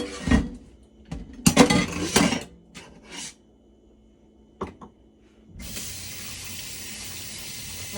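Kitchen tap water runs to rinse carrots for juicing: bursts of splashing and clattering at first, a short lull, then a steady stream of running water near the end.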